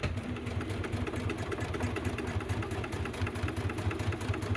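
A sewing machine stitches fabric for a clutch bag, running steadily with a fast, even mechanical patter. The sound is moderately quiet, close and uninterrupted, with no voices.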